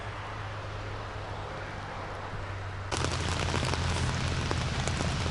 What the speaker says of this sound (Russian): А вот и дождик забарабанил